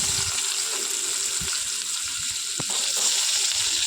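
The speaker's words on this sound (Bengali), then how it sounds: "তো আলুগুলো ভালো করে ভেজে নেবো, একটু লালচে লালচে করেই ভেজে নেবো।" Cut potato pieces frying in oil in a pan give a steady, loud sizzle and crackle that runs unbroken throughout, with a few faint clinks underneath.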